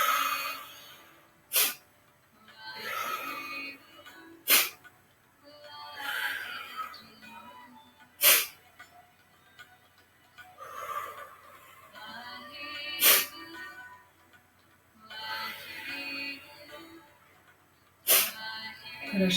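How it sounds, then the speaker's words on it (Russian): A person sneezes deliberately over and over during the Kundalini yoga Sneezing Buddha kriya. Short, sharp, close sneezes come at irregular intervals, with quieter breathy snorts and inhales between them and no speech. "Я продолжаю с вами чихать."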